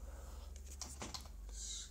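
Faint keys clack on a computer keyboard, a short run of soft taps under a low steady hum.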